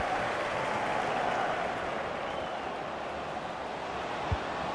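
A large football stadium crowd gives a sustained, even wash of applause as a substituted player leaves the pitch, heard from a distance as a steady dense roar with no breaks.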